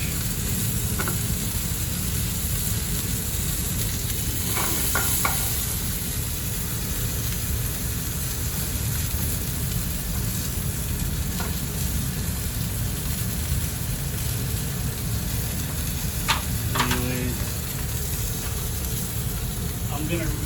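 A filet mignon sears in a hot pan, giving a steady, even sizzle throughout with a few faint clinks. A voice talks over it now and then.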